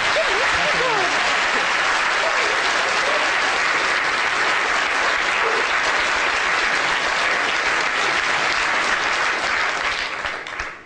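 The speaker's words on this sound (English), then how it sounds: "Can we give a big round of applause for Morgan?" Loud, dense applause from a large audience, steady and sustained for several seconds before starting to fade at the end.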